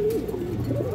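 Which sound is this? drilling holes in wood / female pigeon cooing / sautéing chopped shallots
female pigeon cooing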